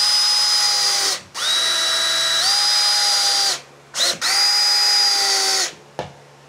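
A cordless power drill drives screws into furniture from the SOGO brand with a loud, close whine in three long runs, its pitch shifting as the screw tightens, then a brief final burst.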